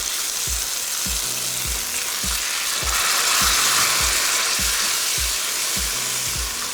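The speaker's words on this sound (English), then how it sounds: "I've blitzed up a couple of tomatoes just straight into a blender. I'm going to pour those into the sauce." Steady, loud sizzling of blended tomatoes poured into a hot curry sauce in a pan, with a bright crackling hiss throughout and a brief swell midway as more is poured in.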